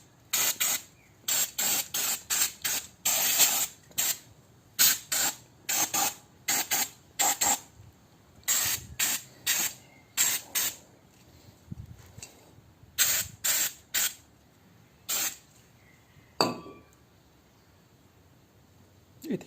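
Short bursts of cleaner spray blasting debris off a rusty rear brake rotor on an abandoned Mini Cooper, a rapid series of sharp hissing spurts with brief gaps, then a few longer blasts, close and loud.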